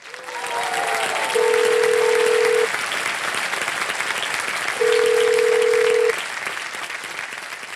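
Two long steady telephone tones sound a few seconds apart, ringing out over a background of television game show studio audience applause and murmur.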